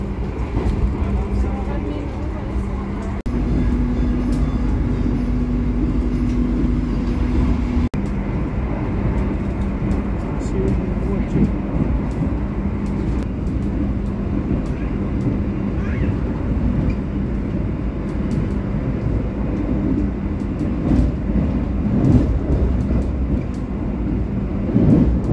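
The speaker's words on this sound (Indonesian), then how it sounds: "kereta api melaju kencang dan akhirnya berhenti di stasiun Kutoarjo." Inside the Argo Wilis passenger train running fast on its Surabaya–Bandung trip, a dense, continuous rumble of wheels and carriage fills the whole stretch, with faint voices at times.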